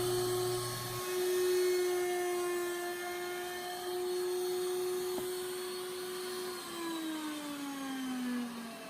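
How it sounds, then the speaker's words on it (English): A router on a router table cuts a bevel along the edge of a wooden keepsake box, giving a steady, high, whining motor tone with a slight pitch drop near the end. "We'll just do that here at the router table."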